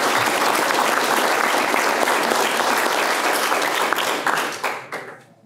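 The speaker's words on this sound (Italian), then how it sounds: "Fate anche un applauso per Francesco." Audience applause fills a town council inauguration meeting in Agliè, steady dense clapping from a seated crowd that fades out over the final second.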